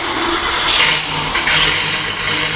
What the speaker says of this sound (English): Listen to the engine bay, dude.